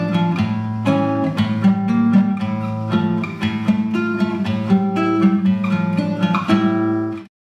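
A classical guitar plays bars 21 to 24 of a habanera, with clear plucked notes and intervals in a lilting rhythm, played alone and close, ending on a decaying final chord.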